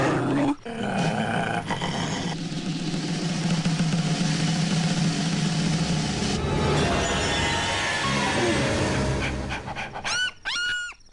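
A voice imitates a dog in a comedy film scene, with rough growling barks and heavy rhythmic panting that run loud and close for several seconds, ending in a few short yelps.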